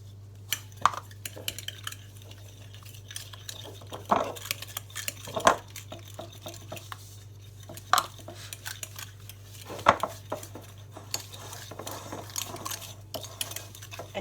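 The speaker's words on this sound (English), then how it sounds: "And you do this with a fork, not with a beater or a whisk." Fork clinking and scraping against a bowl while milk tart filling of beaten egg and sugar is mixed by hand, with irregular metallic taps and scrapes, close and fairly quiet, with no talking.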